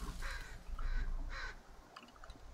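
Crow cawing in the survival video game The Forest, three hoarse caws spaced evenly and fairly close, followed by softer chirpy calls over quiet background ambience.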